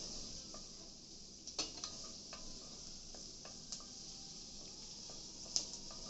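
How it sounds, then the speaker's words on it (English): Onions sauté in a pan, giving a faint, steady sizzle with scattered small pops and ticks from spattering oil. "So now the onions sauteing nicely"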